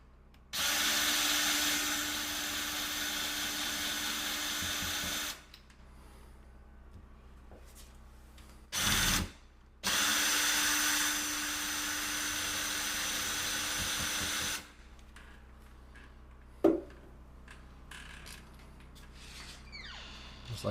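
A power drill backs screws out of a door knob, whirring in two sustained bursts of several seconds each, with a brief blip between them and a small clunk afterwards, close by.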